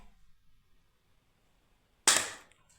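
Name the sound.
toy gun shooting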